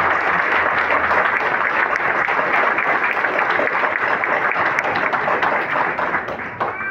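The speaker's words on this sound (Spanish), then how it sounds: "Por favor, acompáñenme con esta palma." A crowd at a political gathering claps in sustained, loud, dense applause with no letup, tapering slightly only at the very end.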